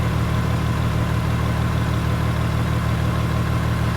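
A Toyota Sienna minivan with 530,000 miles runs at a steady idle, its continuous low engine hum and rumble sitting loud and close without any break or voices.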